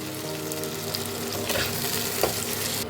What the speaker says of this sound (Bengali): গাজর, বিনস দিয়ে দিলাম, ফুলকপি দিয়ে দিলাম, একটা বড় সাইজের আলু সেদ্ধ করে দিয়ে দিলাম।